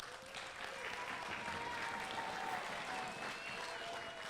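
Applause during a school's ARISS radio contact with the International Space Station at Bampton Primary School in Devon, steady and faint, sustained throughout without a break.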